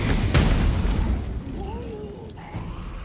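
A fire damage spell explosion in Baldur's Gate 3 bursts loudly at the outset with a sharp boom, then fades into a rumbling tail under quieter game ambience.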